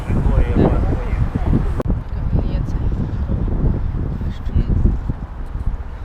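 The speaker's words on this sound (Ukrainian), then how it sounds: "А тут вітер." Gusty wind buffets the microphone with deep rumbling roars, and faint voices come through underneath.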